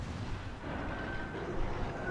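Warship main guns firing shells in the naval combat game World of Warships, a dense, continuous low rumble of broadband boom and roar throughout, loud and steady with no talk.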